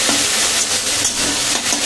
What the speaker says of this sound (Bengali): এখানে দেখো ঢ্যাঁড়স ভাজাটা হচ্ছে